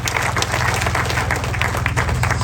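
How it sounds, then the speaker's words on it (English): Audience applause at a public ceremony marking remedial works on Karuma, steady dense clapping filling the room for a couple of seconds, with a low hum running underneath. "Can we give them a round of applause?"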